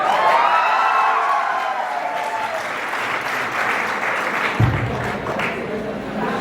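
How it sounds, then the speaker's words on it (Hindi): Audience at a standup comedy show applauding, a dense sustained wash of clapping that holds steady throughout with a sharp thump partway through. "तालियां बजती रहनी चाहिए"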